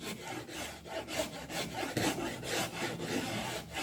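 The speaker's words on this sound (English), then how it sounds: "I want to try and lean it back and get long, even, straight filing lines" Rhythmic rasping strokes of a hand file across a wooden stair string template, about seven long, even scrapes in a steady back-and-forth pattern, close and moderately quiet with no voices.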